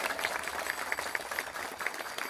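An audience at a Marathi kirtan claps along in a steady, quick rhythm, many hands striking together in even beats about four or five per second, held at a moderate level without a break.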